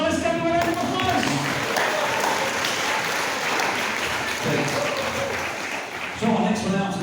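Audience at a sheep show clapping loudly and steadily throughout, a sustained burst of applause with a few crowd voices and someone speaking over it.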